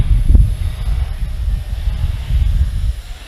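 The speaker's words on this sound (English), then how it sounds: "we're really struggling with the wind" Wind buffeting a Syma X100 obstacle-avoidance drone flown outdoors in a cross breeze, heard as a loud, low, continuous rumble against the microphone that swells and dips.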